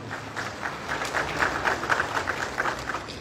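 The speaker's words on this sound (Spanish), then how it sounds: "El aplauso es para todas ustedes." Audience applause at a breast prosthesis delivery event, a moderately loud wash of many hands clapping that swells slightly midway and continues steadily.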